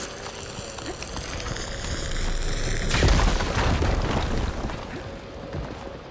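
A fire beam blown up in Horizon Forbidden West erupts in a loud game explosion about halfway through, a booming burst with a crackling, rumbling tail laid over a steady bed of ambient game sound.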